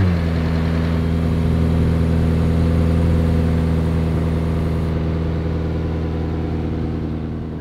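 A loud, powerful McLaren 765LT Spider engine drones steadily while accelerating on the road with a rising, aggressive tone, holding close and strong throughout before easing slightly at the end.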